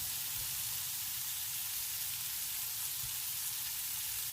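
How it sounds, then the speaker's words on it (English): Pad thai noodles cooking in a hot pan give off a constant, dense sizzle with faint low stirring bumps underneath, no one speaking. "that's going to get noodles cooked"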